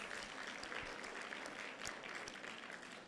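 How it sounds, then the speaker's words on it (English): An audience of alumni at a school breakfast meeting claps steadily, a dense, even wash of many hands sustained throughout with a few sharper claps standing out, no speech over it. "clap for yourselves and even for us"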